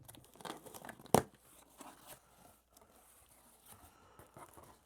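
Cardboard and paper packaging for a GoPro Hero 9 Black camera is torn open up close, with one sharp rip among soft crinkles and rustles, quiet and without speech.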